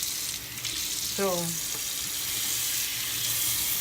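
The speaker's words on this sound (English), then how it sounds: "I'm doing it with a little warm water because, yeah, I'm just gonna rinse it over here" Warm tap water runs steadily over cooked octopus as it is rinsed in a sink, a continuous close splashing hiss, with a voice speaking one brief word over it.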